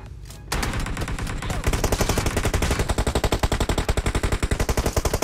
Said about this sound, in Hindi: सामने से फायरिंग चल रही थी